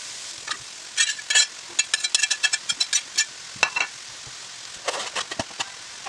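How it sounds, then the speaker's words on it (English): Chorizo and vegetables fry in a pan with a steady background sizzle, broken by a run of crisp, irregular scraping clicks as they are stirred, heard up close with no talk. "Time to add the chorizo and the vegetables"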